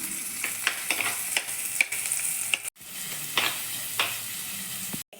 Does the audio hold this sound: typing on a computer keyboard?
no